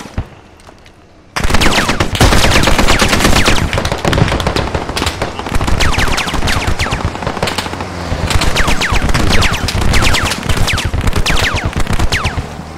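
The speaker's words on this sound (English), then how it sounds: "Here outside, enemy ammo coming in." Video game squad battle: after a quiet start, loud sustained automatic gunfire breaks out, with dense overlapping bursts and sharp single shots continuing nonstop.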